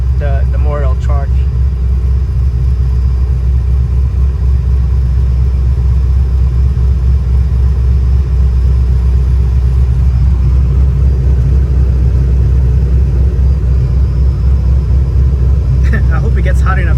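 A Datsun 240Z engine idles with a steady, loud low rumble throughout, while a person talks over it.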